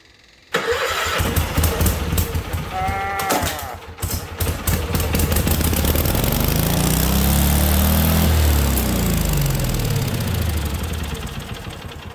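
A Kohler Magnum engine on a Case 446 garden tractor cranks, catches and settles into a loud, steady running drone that holds for several seconds, close by with no talk.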